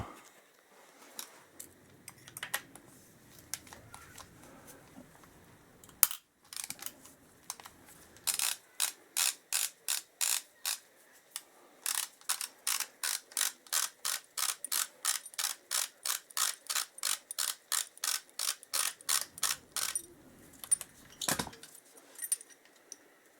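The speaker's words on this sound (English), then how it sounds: "That's all the sump bolts. So let's get that last one out and pop that in the card." A hand ratchet works a sump bolt loose on a Kawasaki KZ1000J motorcycle engine, giving long runs of rapid, evenly spaced clicks in close bursts with short pauses between strokes.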